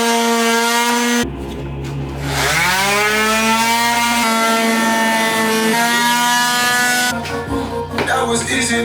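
A power sander drones loudly and continuously on wood, its pitch bending up and down as it grinds against the surface, with short breaks between passes.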